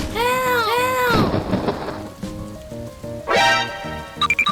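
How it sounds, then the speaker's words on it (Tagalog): A thunderstorm with heavy rain rumbles under music-like tones and whooshing sweeps, the downpour forming a continuous loud bed with a few brief chirps near the end. "Ay naku! Sobrang lakas ng bagyo!"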